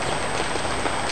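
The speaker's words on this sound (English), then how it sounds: "But yeah, it's raining." Heavy rain falls outdoors as a dense, steady hiss of drops hitting surfaces, loud and close, continuous with no voices.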